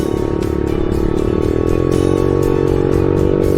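Pit bike engine running steadily while riding across fields and meadows, a loud, close buzzing drone with a constant tone and slight revving fluctuations, no talk.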